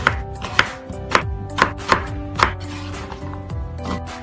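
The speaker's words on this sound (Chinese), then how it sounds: "然后我们将雪梨洗净后，把它切成方块备用" A knife chops a washed snow pear into cubes on a cutting board, about eight crisp, evenly spaced strikes close by, then a quieter stretch, with no talking.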